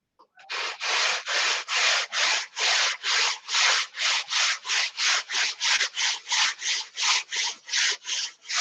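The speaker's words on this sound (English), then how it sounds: "I got the sandpaper on my T-bar." Wood is sanded by hand with sandpaper wrapped on a T-bar: about twenty long, regular rasping strokes in a steady rhythm, close and clear, with no talking.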